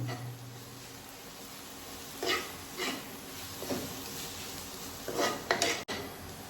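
Spice masala of turmeric, red chili, coriander powder and deggi mirch stirred in a pan, with a soft sizzle underneath and several distinct scraping clinks of a spoon against metal.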